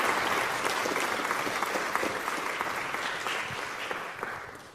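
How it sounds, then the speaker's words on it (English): Audience applause for Swamiji after a dharma wisdom talk, a full steady round of clapping that slowly fades toward the end, with no speech over it. "Let's give another round of applause to"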